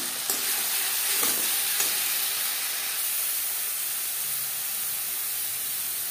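Whole cumin seeds with coconut and green chili frying in hot refined oil, giving a steady, close sizzling hiss broken by a few faint pops near the start.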